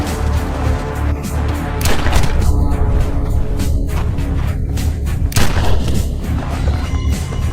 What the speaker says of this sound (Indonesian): Jenny yang baru saja sadar tanpa ragu menembak pemburu itu 2 kali